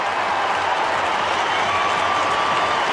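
Sustained roar of a large stadium crowd at Adelaide Oval during an AFL match between Adelaide and GWS, dense and steady cheering with applause throughout.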